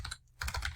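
Fingers type on a computer keyboard in quick clusters of keystrokes, with a short pause partway through and a clear clicking rhythm close by.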